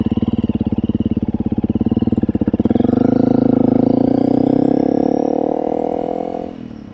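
Honda CRF300L dual-sport motorcycle pulling away under throttle, a loud close putter at idle rising into a steady revving drone that holds and then eases off as the bike rides away.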